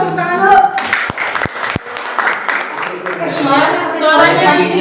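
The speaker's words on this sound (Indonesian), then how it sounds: "Kalau setuju kita tepuk tangan dulu." Audience applause fills a teacher-training workshop hall in Serang, Banten: a steady, dense wash of clapping from a room full of participants, with voices talking over it and the clapping swelling toward the end.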